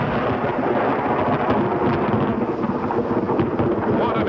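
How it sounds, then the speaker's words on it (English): A Utah copper mine blast set off with ammonium nitrate explosive makes a loud, sustained rolling rumble that roars steadily without letting up, heavy and close, no voices. "What an explosion! Thunder over Utah!"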